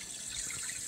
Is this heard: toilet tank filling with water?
yes